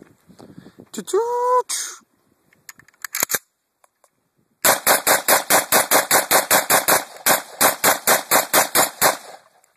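Bursts of rapid gunfire from Call of Duty on a PS2 rattle out in a fast string of sharp shots, following a few earlier isolated shots and a brief spoken phrase.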